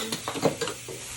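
Chopped onions go into hot bacon grease in a Dutch oven with a short burst of crackling sizzle and a few light stirring clatters, close and fairly quiet.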